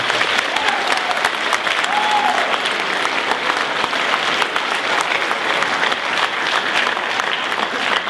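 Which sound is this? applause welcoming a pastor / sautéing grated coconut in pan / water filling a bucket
applause welcoming a pastor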